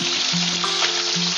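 Garlic fries in hot oil for chicken adobo, a dense, steady close sizzle with a faint underlying hum throughout.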